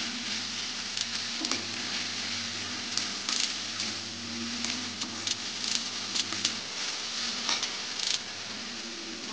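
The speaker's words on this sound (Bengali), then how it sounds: "আমি মশলাটা সামান্য জল দিয়ে ভালো করে কষিয়ে নেব" Spice paste with chili powder and slit green chilies fries in a pan with a splash of water, giving a steady close sizzle with scattered pops and spatula scrapes throughout.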